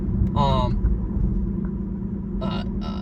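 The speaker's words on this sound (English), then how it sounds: "I'm taking this corner really fast in this Chevy Volt" A Chevy Volt taking a corner fast, heard from inside as a steady low road and drive rumble throughout, with someone talking over it.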